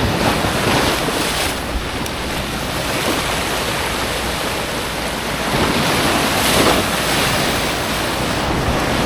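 Strong ocean waves surging and crashing at a rocky tidal pool in Casiguran, Aurora, a continuous loud roar of surf with gusty wind noise and no talk.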